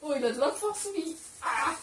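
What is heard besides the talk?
No distinct noise like a dog, phone or traffic.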